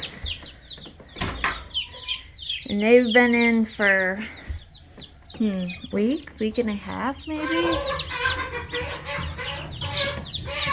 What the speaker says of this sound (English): This is the pen that has all the laying hens in it right now.